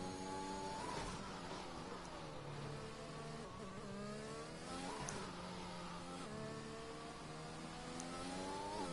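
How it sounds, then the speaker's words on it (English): Simulated red and silver F1 car engine in an esports racing game, a faint, steady high-pitched whine rising and falling with gear shifts and revs along the track. "listen to that engine roaring over the track in that red and silver livery"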